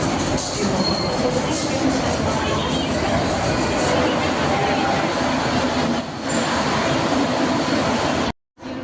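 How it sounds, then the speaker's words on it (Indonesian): Commuter train arriving at platform 1 of Surabaya Gubeng station, a loud, steady broadband rumble and hiss of the approaching train dominating throughout, with voices faint beneath it before it cuts off abruptly. "Akhirnya kereta komuter yang akan saya naiki masuk jalur 1 stasiun Surabaya Gubeng"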